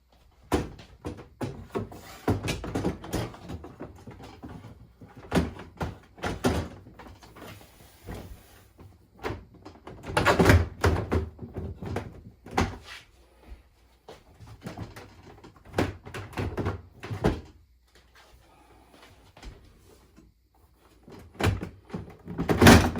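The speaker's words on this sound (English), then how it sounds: "Now reinstall the freezer baskets." Freezer baskets being slid and set back into place in a Maytag French door bottom-freezer refrigerator, with repeated plastic and metal clunks, scrapes and thumps coming in irregular bursts, close and fairly loud with no talk.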